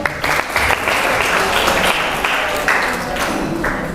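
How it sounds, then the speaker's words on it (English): Steady, dense audience applause at a live youth public-speaking summit after a speech, sustained and fairly loud throughout with no talk over it. "Let's give a big round of applause to Raphael."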